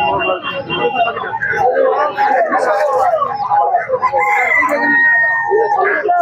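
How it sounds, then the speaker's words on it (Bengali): A large rooster crows over clucking poultry at a busy rural livestock market, Bantola Hat near Kolkata, loud and close, with people talking throughout the crowded stalls. "এই মোরগটা বিশাল বড় সাইজ"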